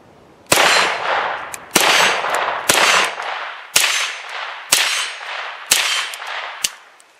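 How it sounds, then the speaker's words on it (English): A KelTec Sub 2000 carbine fires shots one at a time, each a sharp, loud crack with a ringing metallic decay, spaced about a second apart, close by and without talk. "I'm going to shoot 5 shots out of my brother's KelTec Sub 2000"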